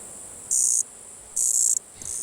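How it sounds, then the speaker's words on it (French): Cicadas buzz in Mediterranean garrigue scrub after a wildfire, three loud, shrill bursts of song, each lasting a fraction of a second to half a second, separated by brief near-silence, the last one cut short. "j'ai attrapé une cigale qui est peu connue, en fin de compte, qui s'appelle la cigale du Garrick"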